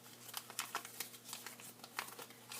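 Folded origami paper for a kirigami peach blossom is unfolded, giving a dense run of soft, close crinkles and crackles with no voice over them.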